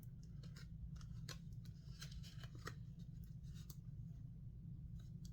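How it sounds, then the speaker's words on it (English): A Chris Reeve-style knife box being opened, with crisp papery scraping and cutting-like snips in quick irregular bursts over a steady low hum, close up and without talk. "So I open the box."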